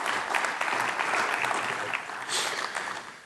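An audience at a county showcase event applauds collaborators, a steady wash of many hands clapping together that swells briefly, then fades over a few seconds.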